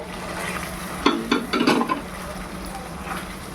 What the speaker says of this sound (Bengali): এর মধ্যে এখন চলে যাবে প্রনগুলো।